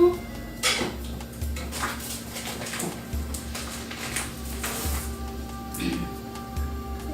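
Makrout dough is worked together with melted butter in a bowl, making close, uneven scraping and clattering against the bowl in repeated bursts, with little talk.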